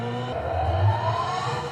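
The Hyundai IONIQ 5 N electric performance car plays its synthesized driving sound, a sustained tone whose pitch climbs and swells smoothly like an engine revving up, steady and prominent throughout.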